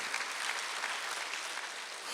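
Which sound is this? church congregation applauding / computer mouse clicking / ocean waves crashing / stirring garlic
church congregation applauding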